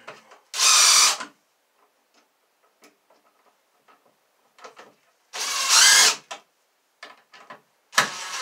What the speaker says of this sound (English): So I'm going to go get the screw gun.